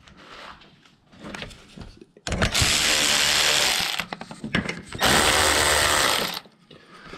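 Power tool driving bolts to fasten a part onto a Chrysler 300 during a Hellcat engine conversion, two loud sustained whirring bursts of about two seconds each, separated by quieter clicks and handling noise.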